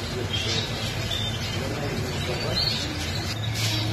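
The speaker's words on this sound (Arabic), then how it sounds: "هذا فول تغريد علاوي." An ornamental songbird sings in a bird shop among caged birds, short high chirps and tweets scattered over a steady background murmur, with a voice talking nearby.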